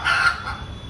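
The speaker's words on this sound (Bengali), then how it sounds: "কি ডাক, এরম রোজ এরম ডাকবে যখনই মুরগি দিতে হবে" A rooster or hen lets out one loud, close call at the start, then it fades into a quieter tail, with no talking.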